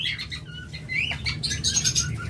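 A pair of yellow collar pet birds give short, high chirps and quick tweets close by, over a soft low background murmur.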